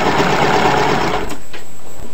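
A sewing machine runs a short burst of reverse stitches to lock a seam on a fabric rose pillow, a steady close whir that stops abruptly after about a second, leaving near silence.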